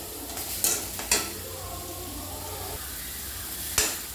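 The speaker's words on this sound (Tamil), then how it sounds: "பாவக்காய் நல்லா வறுத்தெடுத்து வைக்கணும்." Bitter gourd frying in an iron pan, a steady close sizzle with a few sharp scraping stirs of a spatula, no talking.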